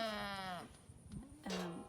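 A goat bleats during blood collection: one long, wavering, nasal bleat, then a shorter second call after a brief pause, both loud and close.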